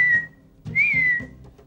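A person whistles a tune indoors in a room, two clear sustained whistled notes that bend slightly in pitch, close and fairly loud over a low background rumble.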